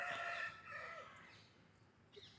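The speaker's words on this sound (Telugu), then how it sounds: "పల్లెటూరు అనగానే కోడి కూత" A rooster crows in a village setting, one drawn-out call that starts loud and close and then tails off, followed by a brief faint chirp near the end.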